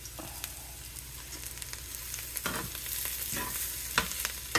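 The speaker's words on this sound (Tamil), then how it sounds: "அப்படியே எண்ணெயிலே கொஞ்சம் பரட்டுங்க." Continuous sizzling of beans stir-frying with spices in hot oil, with occasional scraping stirs of a spoon in a pan, close and moderately loud, no voices.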